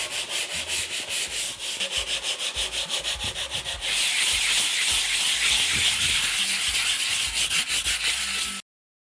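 A small sanding block rubbed by hand over waxed concrete gives steady, close, rhythmic scratchy strokes. It then shifts into a continuous dense hiss before stopping abruptly, with no talking.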